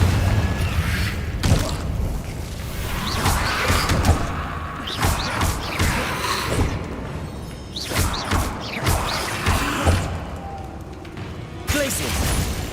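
Incendio and Confringo spells cast in Hogwarts Legacy, a run of booming fiery blasts, whooshes and crashing impacts in repeated bursts, with someone speaking between the hits.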